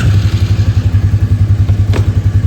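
A Can-Am BRP Outlander ATV with the G3 chassis idles right after starting, its engine chugging in a steady, loud, close pulsing rhythm.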